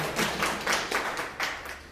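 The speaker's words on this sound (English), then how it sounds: "Let's give a round of applause for the amazing and the splendid speech given" Toastmasters club meeting audience clapping for a speech: a small group's handclaps, fairly close and moderately loud, coming in uneven bursts with no talk over them.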